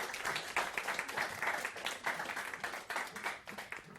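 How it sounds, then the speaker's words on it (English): Audience applause at a talk on mixed heritage identity, a few seconds of fairly faint, distant clapping with uneven bursts. "Another round of applause."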